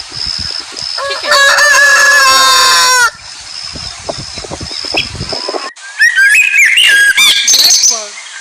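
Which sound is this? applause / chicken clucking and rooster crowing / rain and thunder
chicken clucking and rooster crowing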